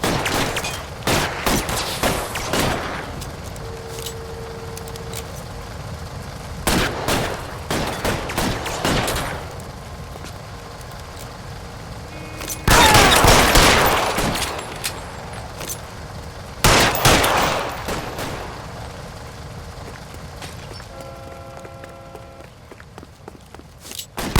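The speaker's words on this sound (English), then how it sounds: "Nice, shooting him right far away like that" Gunfire in the 1940s Los Angeles detective game L.A. Noire, several separate bursts of shots and action noise spaced across a background of game ambience, loud and close, with no talking.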